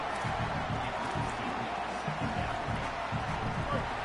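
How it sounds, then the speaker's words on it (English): Steady roar of a stadium crowd in a college football video game, a constant dense wash of cheering noise with low rumbling swells, loud and continuous throughout with no clear individual voices. "this crowd is fired up. Listen to this noise here."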